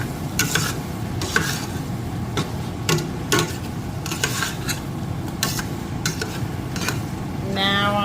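A spoon working through meatless white bean chili seasoned with smoked paprika and chili seasoning in a pot, repeated scraping, stirring strokes with light clinks against the pot and a faint simmer underneath.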